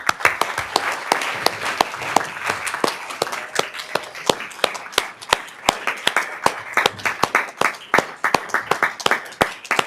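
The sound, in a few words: audience applause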